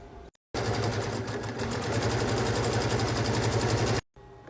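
An embroidery machine stitching a quilted pocket of a beach bag in the hoop: a loud, rapid, steady mechanical chatter running continuously for a few seconds, starting and stopping abruptly.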